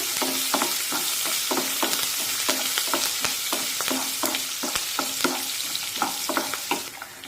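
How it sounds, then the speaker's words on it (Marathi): Chopped green chillies sautéing in hot oil give a steady sizzle, punctuated by regular scraping taps of a spoon stirring in the pan, close and continuous. "आता यामध्ये दोन ते तीन हिरव्या मिरच्या बारीक कट करून घेतलेल्या आहेत ते सुद्धा यामध्ये टाकूया परतून घेऊया"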